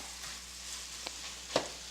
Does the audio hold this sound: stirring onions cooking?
yes